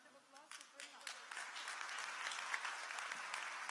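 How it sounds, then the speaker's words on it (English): A live-event audience bursts into sustained applause, many hands clapping in a dense, even wash that builds after a quieter start and stays steady, fairly faint and distant, with no speech over it. "Round of applause for Prema."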